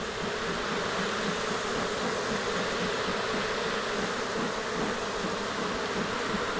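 A loud, steady swarm hum of honeybees fills an opened hive during a fall beehive inspection, continuous and close without pause.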